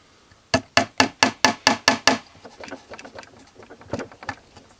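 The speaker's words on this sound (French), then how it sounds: "On fait un trou au milieu avec un clou." Eight sharp hammer blows in quick, even succession drive a nail into wood while building a birdhouse, then lighter scattered taps and knocks follow, close and clear with no talking.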